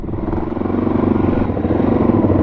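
A group of motorcycles riding out from a camp on a highway trip, a loud, steady engine rumble with a rough, throbbing texture that builds slightly and holds, heard close without voices.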